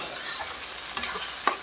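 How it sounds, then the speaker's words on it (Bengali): Chopped tomatoes sizzle softly in a hot pan for baingan bharta, with a couple of brief scrapes as a spatula stirs them, and no voices. "এই টমেটোটা দিয়ে এখন একটু ভাজা ভাজা করে নিই"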